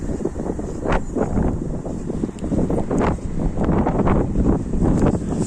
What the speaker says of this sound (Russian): На самом деле очень сильный ветер.